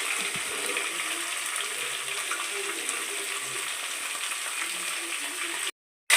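Fish curry with drumstick pieces and salt being stirred in a pan, a steady close sizzle with soft stirring scrapes throughout, cutting off abruptly near the end.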